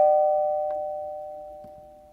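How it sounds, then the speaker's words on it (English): A house doorbell gives a single clear electronic chime that rings on and slowly fades, with faint footstep-like knocks underneath. "who wants to ring the doorbell or knock on the door?"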